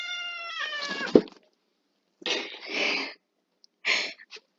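A cat gives a drawn-out meow that ends in a sharp sneeze-like burst, followed after a pause by several shorter, breathy cries and calls, close and fairly clear against silence.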